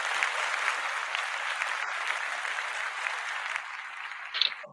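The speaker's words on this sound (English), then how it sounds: "Give round of applause for Gray area in the building." A steady wash of audience applause welcoming the guest Gray, dense and even throughout, with a few louder claps near the end as it tapers off.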